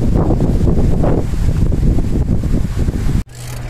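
Strong gusty wind roars steadily and loudly across the microphone outdoors on a changeable day, with no voices, before cutting abruptly to a quieter background near the end.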